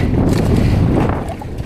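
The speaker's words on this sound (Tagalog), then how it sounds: "Palyado yung makina natin. Naglulunod." Sputtering boat engine on the open Pacific during a southwest monsoon, a dense low rumble running steadily throughout, mixed with wind and water noise and tapering slightly toward the end.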